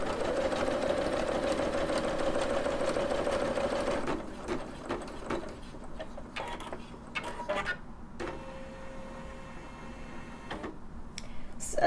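A Singer Legacy SE300 embroidery machine stitches out a design with a rapid, steady mechanical chatter, pausing and restarting in shorter bursts later.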